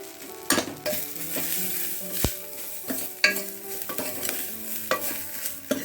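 Fenugreek leaves and onion with turmeric fry in a pan, a steady sizzle punctuated by repeated scrapes and knocks of a spoon stirring against the metal, with no voices.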